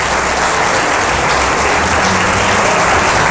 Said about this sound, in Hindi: तो जोरदार ताली बजाएं फिर अगर खुश थे